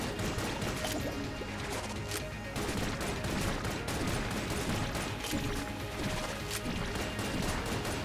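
Dense, continuous volleys of gunfire and crashing impacts from Enter the Gungeon, a bullet-heavy video game, loud and unbroken for the whole stretch with no talk.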